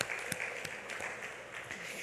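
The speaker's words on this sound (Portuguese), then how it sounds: "Uma salva de palmas." A church congregation claps together in applause, a steady, fairly faint patter of many hands heard from a distance, with no talking.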